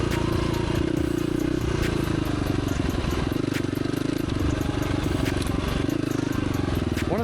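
A KTM dirt bike, either a 300 XCW two-stroke or a 350 XCFW four-stroke, ridden continuously and close by, its steady engine drone rising and falling with throttle changes, with clattering and scraping from the terrain mixed in.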